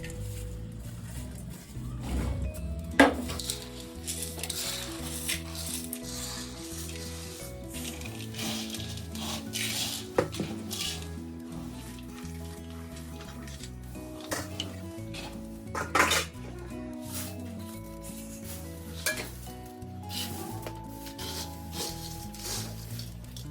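Fried peanuts and boondi being stirred together in a pan to make a South Indian mixture snack, giving steady scraping, rustling and clinks of a metal spoon against the pan, close and continuous without talk.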